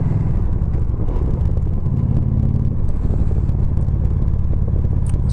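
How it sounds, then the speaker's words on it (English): Continuous motorway traffic rumbles past as cars and vehicles whir by in an unbroken, fairly close wash of road noise, with occasional clattering and no speech. "get past all this traffic."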